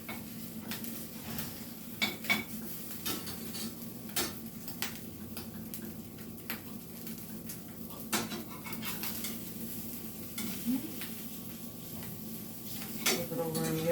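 A quesadilla flipped in a hot pan, with soft scraping, tapping and clinks of a utensil against the pan over a faint steady sizzle, close and fairly quiet, with a brief voice near the end.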